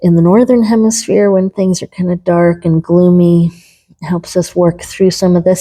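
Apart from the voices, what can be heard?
No everyday noises stand out.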